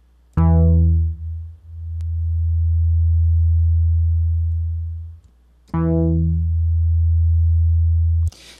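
Classic analog-style bass patch in Native Instruments Massive: two long low notes, each opening with a bright filtered attack that quickly decays into a deep, smooth sustained tone, close and loud with no voice.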